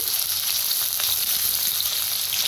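Pounded green chili and garlic fry in hot oil in a kadhai for methi bhaji, giving a dense, steady, bright sizzle and crackle that stays close and loud throughout, with no talk.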